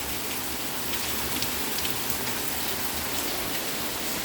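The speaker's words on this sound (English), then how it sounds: "See? A lot of rain." Heavy rain pours in St. Catherine, Jamaica, a dense, steady hiss of drops drumming on surfaces, close and loud throughout with no voices.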